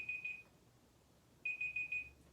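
A timer alarm beeps in quick, high-pitched pulses, stops for about a second, then resumes with another run of rapid beeps, fairly quiet.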